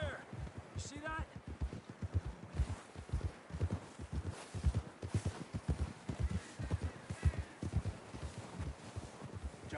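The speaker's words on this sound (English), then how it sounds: "John was riding that horse when we left Blackwater" Horse hooves clip-clop at a walking pace in a steady rhythm in the video game Red Dead Redemption 2, with a voice and faint outdoor ambience underneath.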